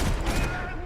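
Automatic gunfire from the video game Max Payne 3 comes as one dense, loud burst of rapid shots lasting under a second, close and harsh.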